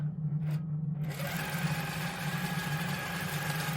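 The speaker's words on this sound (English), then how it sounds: "It's gonna move back to that starting point there, bring up my bobbin thread, take those slower stitches." A Handi Quilter Pro-Stitcher quilting machine stitching a casserole carrier, a steady loud mechanical hum with a rapid stitching rhythm running continuously throughout.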